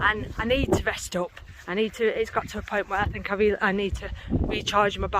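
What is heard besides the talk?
No everyday noises stand out.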